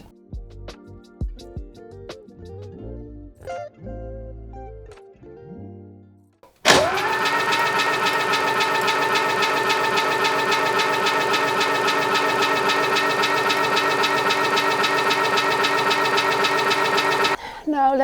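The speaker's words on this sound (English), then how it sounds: "I'm going to start it without the spark plugs in, so it can get some oil pressure first" A Volvo 340 engine with its spark plugs removed cranks on the starter to build oil pressure, giving a loud, steady, rhythmic churning for about ten seconds that stops abruptly, after scattered clunks and brief talk.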